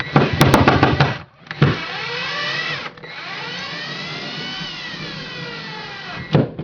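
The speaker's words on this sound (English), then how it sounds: "on the opposite side, where we found our stud, we're just going to run the wood screw" A power drill drives a wood screw into a wall stud while an over-the-range microwave bracket is being mounted. The motor whirs loud and close, with a few short bursts at the start and then one long steady run.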